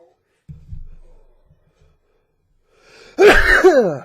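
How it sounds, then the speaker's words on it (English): A quiet breath and soft rustle, then a single loud, abrupt sneeze close by near the end. "I do feel a sneeze coming on"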